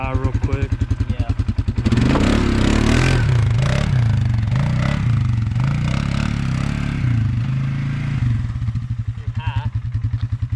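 A 2020 Polaris Sportsman 450 ATV fitted with an EPI clutch kit idles with a chugging pulse, then revs up into a loud, wavering engine roar before settling back to idle, with voices underneath.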